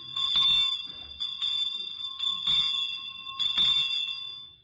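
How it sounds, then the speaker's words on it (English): A hand bell of the kind rung on streets at Christmas clangs in bright, metallic strokes, several rings in uneven bursts with ringing overtones sustaining between strikes, close and clear. "this next bell is one you often hear on the streets around Christmas time"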